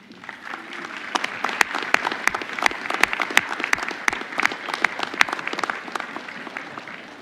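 Graduates at a December commencement ceremony applaud their families and friends, a large crowd's sustained clapping with crisp individual claps close by, holding steady before easing off.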